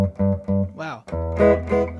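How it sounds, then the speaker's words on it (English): A stock mid-'70s Yamaki Les Paul electric guitar on its neck pickup plays a short phrase of repeated, dark, full-bodied notes, followed by a bend and further sustained notes, loud and close. "that's a very loud neck pickup in comparison to the Strat"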